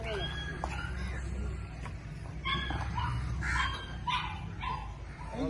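Several dogs bark and yip at a rural farmstead in Punjab, in bursts of barking, with people talking over them throughout.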